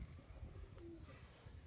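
A male pigeon coos softly, a faint low murmuring call set against quiet background rumble.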